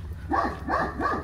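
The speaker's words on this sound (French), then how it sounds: "c'est un chien qui escalade" A dog barks three times in a steady rhythm, fairly close, outside an abandoned manor, with a low hum running underneath.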